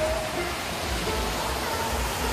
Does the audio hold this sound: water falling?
yes